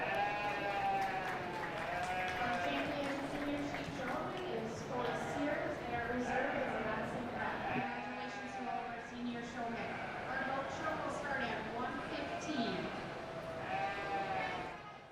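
Sheep bleat repeatedly in a show ring at the Red River Valley Fair 4-H livestock show, several wavering calls overlapping across a busy, echoing hall with voices murmuring in the background.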